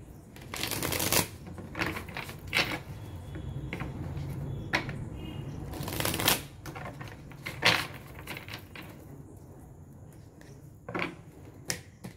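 Tarot cards are shuffled in quick riffling bursts, with soft taps and rustles between them, close and fairly quiet.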